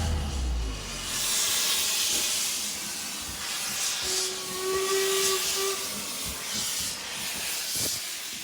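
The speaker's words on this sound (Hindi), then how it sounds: "ये कहानी है फोर्ट विलियम्स से निकलने वाली हॉगवर्ट्स एक्सप्रेस की" Hogwarts Express steam locomotive at Fort William, Scotland, hissing steam steadily throughout, with a clear whistle-like tone rising in the middle and a low rumble at the start; no voices.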